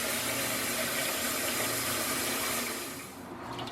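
Sushi rice being rinsed in a large bowl under cold running water, a steady loud gush of water from the tap that eases and thins out near the end.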